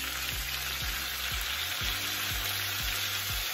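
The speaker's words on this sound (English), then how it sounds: "And I've got this stir fry mix that I'm gonna throw in there." A stir-fry vegetable mix sizzles in a pan at medium heat, a constant, bright, close frying hiss with a regular series of soft low thumps underneath.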